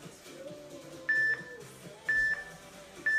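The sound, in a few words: workout timer beeping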